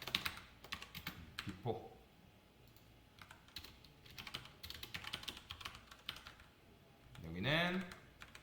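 Someone types code on a computer keyboard, with quiet clusters of key clicks that come and go while a person talks softly over them.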